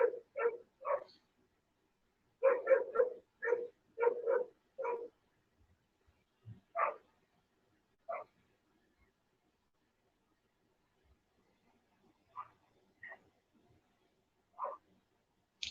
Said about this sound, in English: I'm really hoping that neighbor dog shut the fuck up.